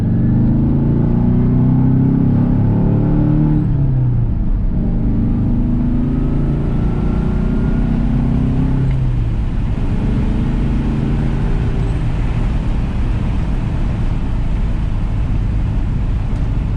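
A 1964 Porsche 356 C coupe driving, its engine note climbing through gears with audible pitch drops at shifts, then settling into a steady, loud cruising rumble with road noise.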